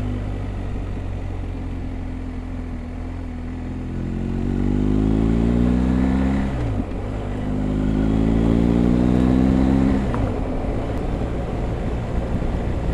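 BMW 1250 GSA motorcycle engine under way: the boxer note climbs in pitch through two accelerations, each ending in a brief dip at the gear change, loud and close with steady wind rush.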